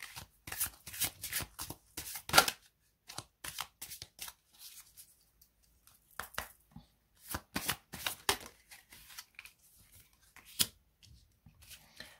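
Oracle card deck being shuffled by hand in repeated bursts of crisp riffling and sliding, close and fairly quiet, with pauses between the flurries.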